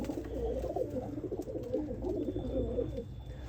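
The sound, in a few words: Sialkoti pigeon cooing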